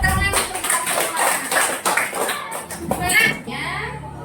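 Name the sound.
children clapping in a classroom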